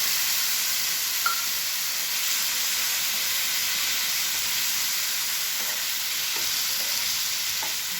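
Potatoes frying in a pan with ginger paste, chili powder and turmeric give a loud, steady close sizzle and hiss, with a few faint utensil taps.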